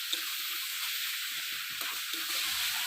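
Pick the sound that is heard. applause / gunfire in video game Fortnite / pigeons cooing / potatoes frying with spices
potatoes frying with spices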